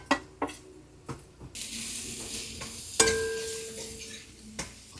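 Coriander, chilli, black pepper and garam masala powders frying in oil for a black chicken curry, a soft sizzle under sharp spoon clinks and scrapes on the pan, close with no voices.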